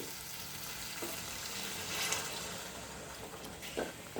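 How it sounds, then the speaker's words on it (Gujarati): Half a cup of hot water goes into a pan of fried cashews, leaving a faint, steady sizzle with a couple of soft utensil taps. "તળેલા કાજુ નાખીશું કાજુને એક મિનિટ રાખી અને આપણે અડધો કપ ગરમ પાણી નાખીશું"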